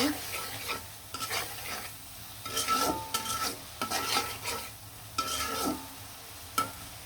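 Shrimp or fish and onions are fried with chili, salt, turmeric, cumin and coriander while a spoon stirs them. A busy sizzle runs under repeated scraping and clacking strokes against the pan, close and fairly loud, with no voices.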